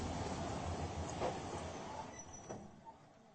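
A dusty old train carriage rumbles along the rails, a low, continuous close interior noise with faint clunks and rattles, easing off toward the end.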